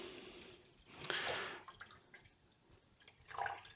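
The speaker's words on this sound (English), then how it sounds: "now we filtered water through the Grayl" Water dripping and trickling through a Grayl water filter, a few quiet splashy bursts of droplets separated by near silence, faint and close.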